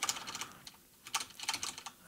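Rapid typing on a computer keyboard during a game demo, quick clustered key clicks in bursts with a short pause midway, close and clear, no talking.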